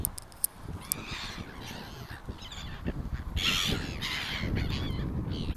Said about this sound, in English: Are they feeding these aggressive ass seagulls right now?